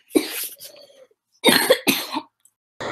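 Several harsh, close coughs, one single then a quick double burst, with brief silences between.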